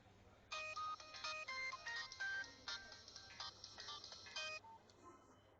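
A phone ringtone plays a quick run of bright, melodic electronic notes for several seconds, faint and tinny with no voices.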